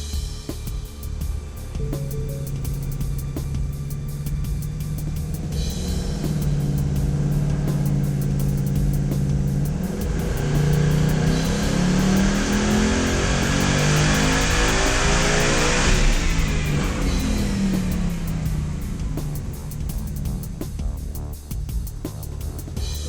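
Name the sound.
car engine revving on a chassis dynamometer ramp test run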